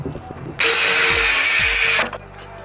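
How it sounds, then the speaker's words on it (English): A DeWalt miter saw cuts a scrap wood piece in half in one loud, close whining buzz of about a second and a half, with brief handling knocks before and after. "That DeWalt saw is a beast."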